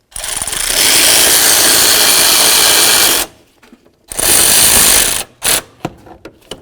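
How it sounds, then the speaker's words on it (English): A power ratchet tightens a bolt on the dipstick tube of a 2007-or-later Toyota Tundra 4WD, with two long, loud, buzzing bursts and then several short, sharp spurts close by. "start your bolt in there and snug it up."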